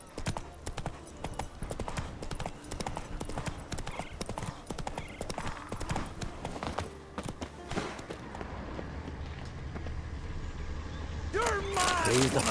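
Hoofbeats of Roach, Geralt's horse, in The Witcher 3 on Skellige, a quick run of clip-clopping strikes that slows and fades, followed by a swell of wind and a brief vocal outburst near the end.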